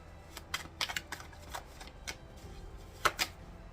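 A deck of tarot cards being shuffled by hand, giving soft, quick riffling flutters and taps in an uneven rhythm, close and fairly faint, with no talking.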